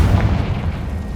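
A Confringo fire curse detonates in Hogwarts Legacy, a heavy, close boom whose rumbling roar fills the whole brief moment without any break.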